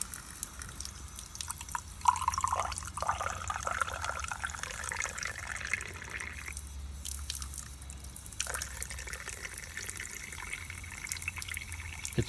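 Water pouring and dripping into the open port of a Cummins EGR valve on a midrange diesel engine, a steady close trickle with scattered drips and no talking.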